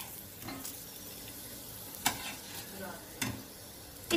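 A broccoli paratha fries in a pan with a little oil, giving a soft, steady sizzle up close. A few faint taps and scrapes from pressing the bread break through it.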